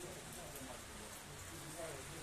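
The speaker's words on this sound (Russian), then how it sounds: "Будем переждать дождь." Steady rain falling at night during a bike ride, a dense, even hiss of drops on surfaces, faint and continuous with a low background murmur.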